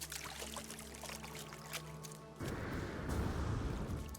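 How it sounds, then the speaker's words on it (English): Water in a video game's Worlds update sounds at fairly low level, a thin trickle at first, then a fuller, louder rushing pour that continues to the end. "Also, the water noises are so loud."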